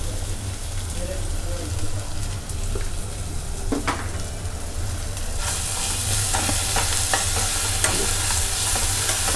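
Chili, ginger and garlic sauté in a pan for a Maharashtrian runner-bean rajma dish, giving a steady close sizzle with scraping stirs and clinks throughout, the frying growing brighter and louder in the second half.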